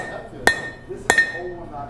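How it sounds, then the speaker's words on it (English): Two sharp metallic strikes about half a second apart as a hammer drives a punch through hot iron over the pritchel hole of a blacksmith's anvil, each hit ringing briefly over low room noise. "Start hammering through it again."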